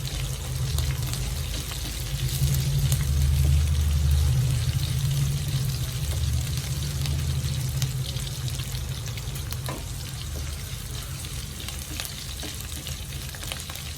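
Green chillies fry in oil for a potato roast, making a continuous close sizzle over a low steady hum, with occasional faint stirring clicks.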